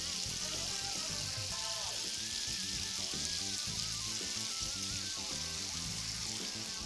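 Fatty skirt steak for shawarma sizzles and crackles steadily in a hot pan as its fat renders out, a constant bright frying hiss with scattered pops, moderately close and alone.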